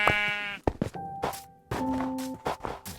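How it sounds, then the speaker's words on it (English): Several bleats from a cluster of Minecraft sheep in a big open cave, wavering and nasal, come in short bursts with soft thumps and clatter between them. "But look at all these sheep."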